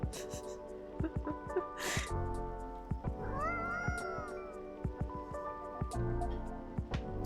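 A cat in the video game Coffee Talk 2 meows several times, close and soft, with caterwaul-like drawn-out cries over quiet game background music.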